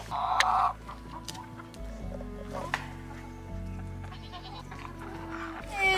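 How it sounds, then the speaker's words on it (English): Silkie hens cluck and murmur softly nearby amid farmyard bustle, with a brief bleat-like call and light rustling. "We've got our two silky hens over here."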